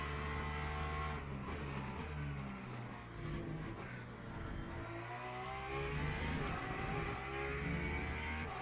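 A GT3 race car in Le Mans Ultimate at Imola drones steadily with a strong engine note, rising and falling as it shifts, alone and fairly loud.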